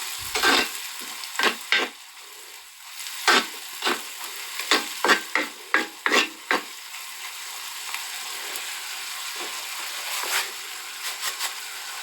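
Repeated scraping and stirring strokes of lentil curry in a frying pan, irregular bursts over a steady background hiss, close and fairly loud, no talking.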